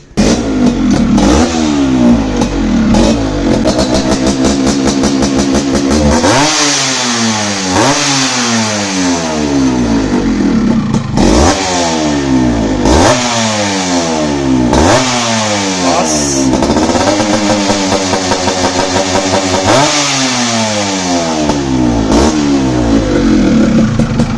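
Modified 100cc motorcycle engine bored out to 135cc, revved hard over and over: loud, rasping climbs in pitch that drop back and rise again in repeated bursts, close up, with a clattering idle between them.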